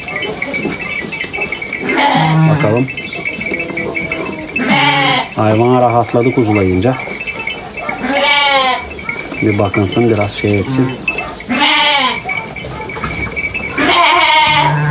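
A ewe that has just given birth to a lamb at a livestock farm in Bulgaria bleats loudly again and again, in repeated calls close to the recorder, while someone speaks Turkish between and over them.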